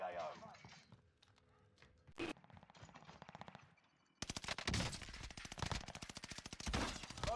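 Rapid automatic gunfire in an online shooter game, bursts of shots growing dense and loud in the second half, with players talking over headsets between volleys.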